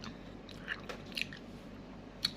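Soft crunchy bites and chewing of a fresh tomato, a few brief crisp bursts spread across a quiet close-up background with no talking.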